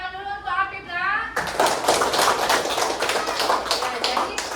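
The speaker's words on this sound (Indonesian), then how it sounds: "Beri tepuk tangan dulu untuk Apip" A classroom of elementary school children bursts into loud, sustained clapping for a classmate, a dense patter of many hands following a brief spoken line from the teacher.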